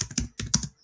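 A computer keyboard gets a brief burst of clicky keystrokes, two quick clusters of taps close up with a short pause between them.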